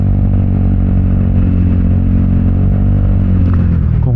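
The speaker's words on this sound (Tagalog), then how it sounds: "parang chatter ng tunog ng makina o ng tambucho" A Vespa GTS300 scooter engine idles loudly and close, its exhaust putting out a continuous low chattering rumble with steady rhythm and no pauses.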